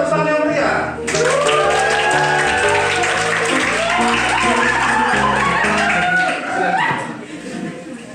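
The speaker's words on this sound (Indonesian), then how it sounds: "Ada Bunda Anis dan Bunda Cynthia, tepuk tangan yang meriah." An audience at a Javanese campus talk show breaks into loud, sustained applause as two female guests are welcomed, with clapping and cheering filling several seconds over steady music before fading.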